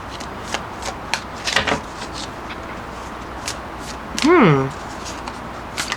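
Tarot cards riffle and slide together in a quick shuffling burst, with a brief pitched squeak and soft handling noises nearby.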